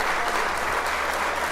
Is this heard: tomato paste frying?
no